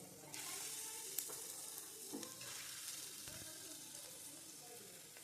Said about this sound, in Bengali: এভাবে আমি চিংড়ি মাছের পেস্টগুলোকে ভেজে নেব।